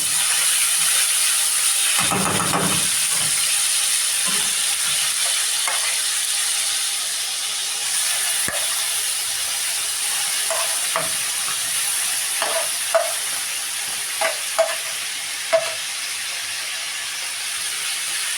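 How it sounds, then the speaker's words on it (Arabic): Pieces of liver fry in a hot pan with a loud, continuous hiss and sizzle, broken by a few soft utensil knocks and light clicks, with no talking. "ننزل بالكبدة، نسمع الكبدة بقى كده اهو"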